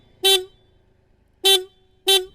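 Stock horn on a Yamaha Vixion motorcycle, a weak single tone, sounds in three short close honks, the first separated by a longer gap and the last two close together.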